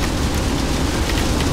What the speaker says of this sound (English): Driving straight into the storm.